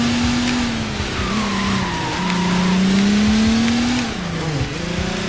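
Race car in Sega GT 2002 racing on an online track, a loud sustained engine whine that dips as it brakes and shifts, with faint tire squeal, no talk.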